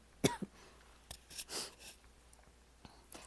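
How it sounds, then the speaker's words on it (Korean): A person coughs suddenly in a quiet room: a sharp burst near the start, a smaller one right after, then faint scattered throat and breath noises, with no talking. "갑자기 기침 나서요"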